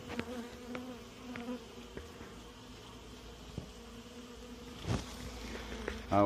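Honey bees buzz steadily around alpine-style hives, a dense close drone with individual bees zipping past now and then, no talk.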